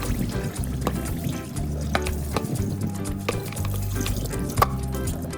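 Water pours and trickles steadily as soaked glutinous rice is drained, close and continuous, with a steady low musical tone running underneath.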